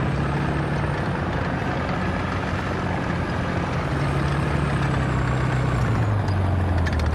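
A steady, loud rotor drone of a helicopter in War Thunder with a low engine hum throughout, unchanging and continuous, no voices.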